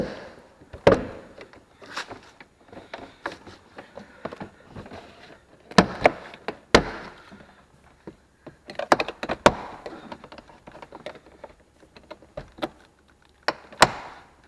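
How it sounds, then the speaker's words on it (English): Plastic clips pop and snap loose as a BMW rear door trim panel is pried off, irregular clicks and thunks with short pauses between. "Just start gently prying up"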